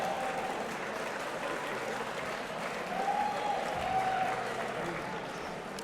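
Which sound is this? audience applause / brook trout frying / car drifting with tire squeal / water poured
audience applause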